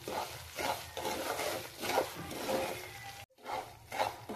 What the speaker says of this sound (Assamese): আৰু অলপ ভাজি